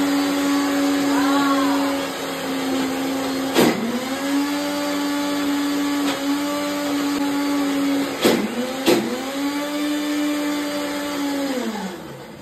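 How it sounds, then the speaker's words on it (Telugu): A kitchen mixer grinder runs close by with a loud, steady whirring motor. It dips briefly a few times as if pulsed, then winds down at the end. "మిక్సీ వేసేస్తున్నాను"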